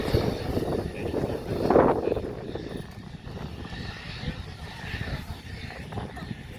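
F-35A fighter jet at an air show, a broad roaring engine rumble that swells around two seconds and then holds steady, with crowd voices talking over it.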